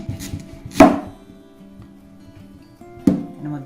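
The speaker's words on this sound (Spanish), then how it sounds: "Cogemos la cebolla, la partimos por la mitad." A kitchen knife cuts through an onion for a homemade cuttlefish and potato stew, with two distinct thuds on the board spaced a couple of seconds apart and faint handling noise between them.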